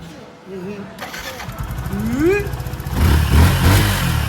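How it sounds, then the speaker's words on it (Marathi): A motorbike engine is started and then revved, rising from a whine into a louder throbbing rumble, while people talk over it. "हा, कशी चालू करायची दाखव गाडी."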